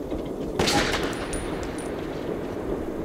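Gunfire aimed at the player in Metro 2033 cracks out in a sharp, fairly close burst that fades into a dull ambient background.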